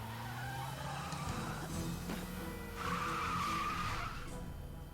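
A sports car in the video game Broken Sword: The Sleeping Dragon skids with a rising tire squeal over a steady engine drone, moderately loud, with no talking.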